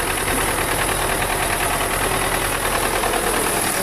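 Turbocharged MTZ-82 tractor idling in a field beside a sprayer, a loud, steady close-up engine drone with a fast, even knock and constant vibration throughout, no voices.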